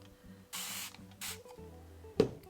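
Two short bursts from a spray bottle hiss, each about half a second, with a brief gap between them, over a quiet background hum and a small click at the end, while painting with acrylics.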